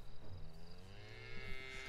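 Cows in the video game Planet of the Apes: Last Frontier give long, low moos, one drawn-out call overlapping another, fairly near against a quiet game background.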